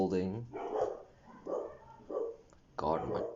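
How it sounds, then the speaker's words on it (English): Several dogs bark in bursts throughout, fairly close and loud, overlapping and alternating with a person talking over them. "I can't get them to stop, so I'm just gonna have to go through this with them barking."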